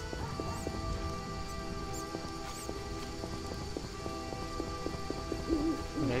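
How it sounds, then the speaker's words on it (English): Steady rain pouring in the video game The Witcher Enhanced Edition, a dense continuous patter filling the whole stretch at even loudness, with faint game tones and a low hoot-like call layered in, and no speech. "Rains and it pours."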